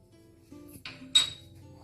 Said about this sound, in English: and keep on stirring